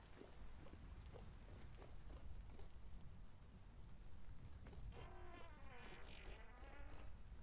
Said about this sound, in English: All the rain outside.